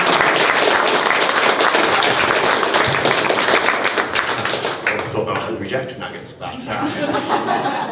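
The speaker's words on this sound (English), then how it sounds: "Let's have a round of applause for both of them." Wedding ceremony guests break into loud, dense applause with some laughter mixed in, then the clapping thins out and a voice speaks before a brief renewed burst.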